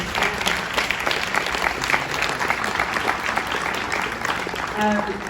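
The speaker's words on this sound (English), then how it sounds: "Let's give him a round of applause." Audience applause at a film festival Q&A after a documentary screening, a steady dense clapping from a full theatre that holds evenly for about five seconds, with a few voices murmuring underneath.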